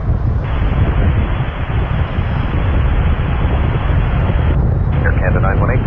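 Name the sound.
airplane taking off at Toronto Pearson airport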